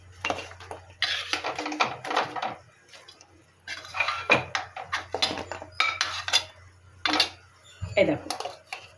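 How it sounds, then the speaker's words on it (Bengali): Fried khaja sweets stirred through sugar syrup in a metal pan, giving repeated close scraping and clinking of a utensil against the pan in irregular bursts, with occasional soft background voices. "এই যে রসে দিয়ে নাড়াচাড়া করে তুলে নিলাম"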